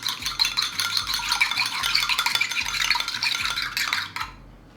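A mixture of egg and grated potato with onion for potato pancakes being stirred briskly in a bowl, a close, continuous wet rattling and scraping that runs steadily and then stops abruptly near the end.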